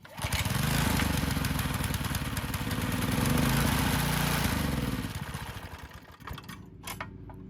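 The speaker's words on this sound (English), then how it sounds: "So we'll get this thing outside, see if we can get it to start." Yard Machines lawn edger small engine running steadily and loud after starting, a buzzing drone that dips and fades toward the end.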